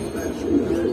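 Pigeons of good bloodlines coo softly in a loft, a brief low coo swelling near the end, close by.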